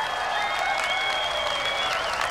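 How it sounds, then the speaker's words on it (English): A golf gallery applauds a pitch shot during the final round of the 2018 Walmart NW Arkansas Championship, a sustained, even wash of crowd clapping with a high tone threaded through it. "Just a nice little pitch shot up the hill, and enjoy the applause"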